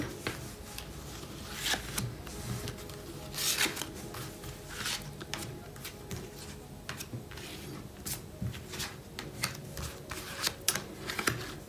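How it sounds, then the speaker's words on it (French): Large tarot cards being shuffled by hand, with repeated soft riffles, slaps and rubbing strokes in an uneven rhythm, close and fairly quiet, with no talk. "Des belles cartes, très grandes aussi, un petit peu difficiles à battre, mais on y arrive."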